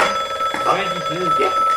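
A telephone rings with an incoming call during a Danish children's call-in show: short repeated electronic ring bursts, loud and near, with a voice speaking over part of it.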